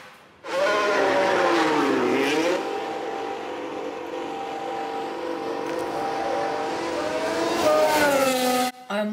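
F1 cars race around Jeddah in F1 Manager 22, a loud continuous engine whine that rises and falls as the cars accelerate, up close with no gaps.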